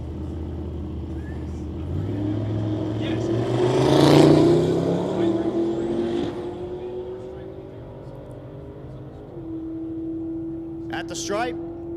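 At a drag race, a second-generation Camaro and a G-Body Malibu launch and roar away from a distance, engine tones climbing and fading, under continuous talk.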